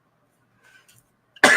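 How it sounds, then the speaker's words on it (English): A man gives a single sharp, loud cough after a near-silent stretch with faint small noises, the burst arriving abruptly at the very end. "This cough's bothering me today"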